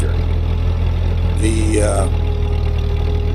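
A Ford 8N farm tractor idles steadily with a low, even engine throb throughout; a brief whistle-like tone rises over it partway through, and a voice briefly speaks over the running engine.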